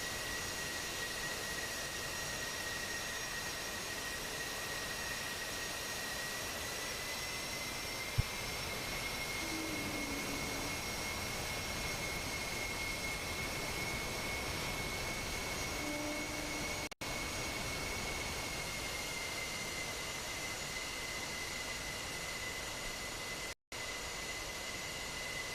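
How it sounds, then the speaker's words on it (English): F-14B, F-18C and Su-33 jets taxi in the DCS combat flight simulator, a steady, whining jet-engine hum with a high tone held throughout, faint and continuous, with no talk. "F-14B and the F-18Cs and the Su-33 all taxiing down the runway"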